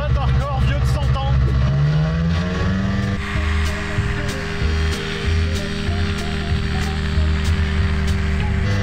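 A car engine fitted with a propeller drones loudly and steadily, its pitch rising and then settling into a sustained roaring hum that fills the whole stretch, with voices talking over it.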